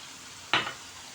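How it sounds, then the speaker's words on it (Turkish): Potatoes for homemade fries hit hot oil in a pan, letting out one short, sharp burst of sizzle over a faint, steady frying hiss, close by with no talking. "Evet ikinci tava patateslerimi dağıttım."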